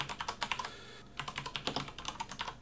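Quick, uneven keystrokes on a computer keyboard while C# code is typed, clicking close and clear with a brief pause in the middle before the tapping resumes.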